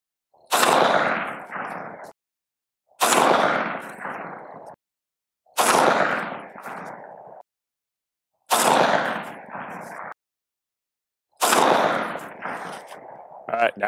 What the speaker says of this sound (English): FN barreled Palmetto State Armory upper with some 45 grain Remington 223